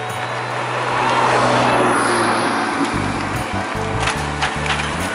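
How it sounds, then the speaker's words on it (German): A Porsche race car at a circuit race pulls away, its engine rising from a low rumble into a broad, loud roar over crowd and ambient noise, fairly near. "Und der Porsche fährt an."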